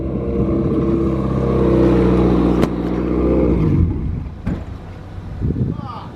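A turbocharged Mazda Miata engine revs hard and loud outdoors in strong wind, rising and holding before cutting off, with wind buffeting the microphone.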